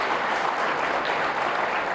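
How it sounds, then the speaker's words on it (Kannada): A large audience at a public gathering with a Swamiji claps loudly and continuously, a thick, steady roar of many hands filling the space without a break. "ಜೋರಾಗಿ ಚಪ್ಪಾಳೆ ತಟ್ಟಬೇಕು ಅವರಿಗೆ"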